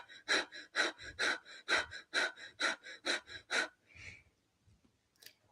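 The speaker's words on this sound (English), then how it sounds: "it's panting but through the nose, so your mouth is closed and you're forcefully exhaling just with your nostrils" Someone pants forcefully through the nose with the mouth closed. About a dozen quick, sharp, evenly rhythmic exhalations are heard close up, then they slow and fade into quiet.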